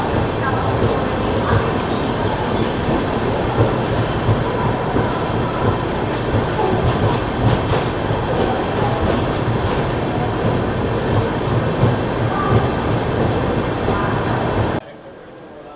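The Sabari Express, running from Trivandrum to Secunderabad, rolls along in a loud, steady rumble with faint rhythmic wheel clatter for about fifteen seconds before the sound cuts off abruptly.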